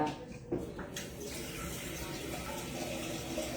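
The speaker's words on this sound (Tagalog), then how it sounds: "Lalagay ko lang ng tubig, tapos lalagay ko lang to sa ibabaw" Water is poured steadily into a container, a continuous close rushing and splashing flow that runs through the whole moment with no break.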